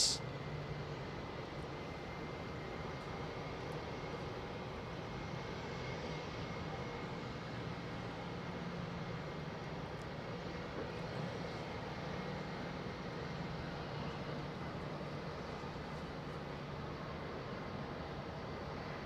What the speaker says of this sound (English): next we're going to have the Air New Zealand triple, which I believe is lining up behind